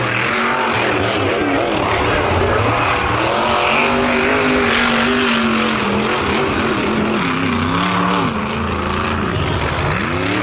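A monster truck engine roars at full throttle on a beach, loud and constant for the whole stretch, its pitch wavering as the truck labours.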